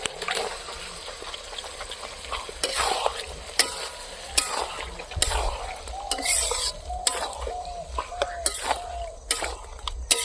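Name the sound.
pork meat added and sizzling in pan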